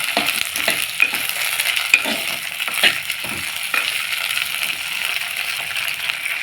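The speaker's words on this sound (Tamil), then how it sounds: "இப்பயே வெண்டைக்காவும் சேர்த்து ஒன்றாவே வதக்கிக்கலாம்" Onion and okra being sautéed together in a pan for an okra kara kuzhambu, with a steady low sizzle and a few light clinks and scrapes of stirring, close and alone without talk.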